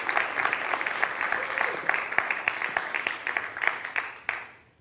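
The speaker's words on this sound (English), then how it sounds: "Can I get a round of applause?" An audience at a grand finale awards event claps for the jury chair as she is called to the stage, a steady, fairly dense round of applause with scattered louder claps that fades out at the end.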